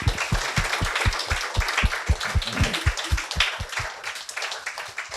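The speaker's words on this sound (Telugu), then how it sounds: "So we can clap for that." An audience at an Art of Living introductory talk claps in a steady, even rhythm: about twenty sharp, close claps in unison, with no talk.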